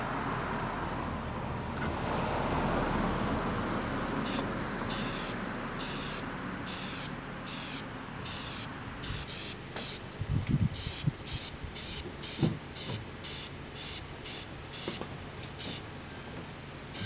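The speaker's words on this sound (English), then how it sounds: "apply some K&N Air Filter Oil to the K&N filter" K&N air filter oil sprayed onto a K&N air filter for a C7 Corvette in a series of about fifteen short, close hissing bursts at a fairly even rhythm, over a low steady background hum.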